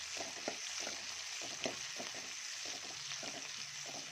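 Steady sizzling of small onions, curry leaves and green chillies frying in hot oil, with occasional scraping and stirring sounds in the pan. No voices.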